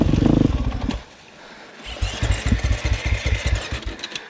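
A motorcycle on a mountain descent, at first revving hard, then falling quiet for a moment before an even idling putter sets in, close by and moderately loud, with no talking.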